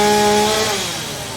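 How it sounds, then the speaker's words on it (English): A chainsaw cuts limbs from an uprooted fallen tree in a backyard, loud and close, its engine whine dropping in pitch as the cut slows. "So Trevor's up top, he's cutting limbs down"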